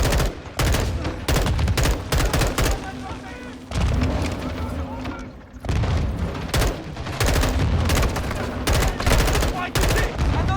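Heavy gunfire in the Call of Duty Black Ops video game, loud overlapping bursts of automatic weapons and booming shots in rapid volleys with short pauses, while voices shout over the fighting.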